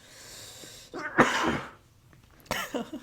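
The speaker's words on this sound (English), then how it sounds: "I'm starting to cough." A person coughs in two bursts, a short rough hack followed a second later by a longer, harsher coughing fit, then another cough after a pause, loud and close against low room noise.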